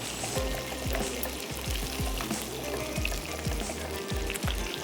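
Half a cup of yogurt stirred into lobia biryani masala in a pot with the stove off, rhythmic scraping strokes repeating under a soft, wet sizzle-like background.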